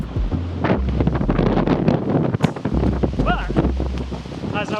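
Cold wind gusts across the microphone of someone running on roads, a loud continuous rumbling buffet that rises and falls, with brief traces of a voice under it.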